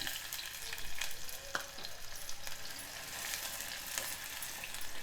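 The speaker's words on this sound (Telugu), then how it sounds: "ఉల్లిపాయ ఎర్రబడే వరకు వేయించుకోవాలి." Sliced medium onion frying in heated oil and ghee for vegetable biryani, a steady dense sizzle with a few scraping stir sounds, close and fairly loud throughout, no voices.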